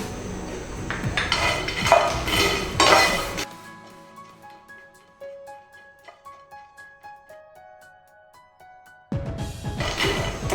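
Fox nuts (makhana) dry-roasting in a pan, heard as dense rattling and scraping bursts at the start and end, with a quieter stretch of light metallic clinks between them, close up and without speech.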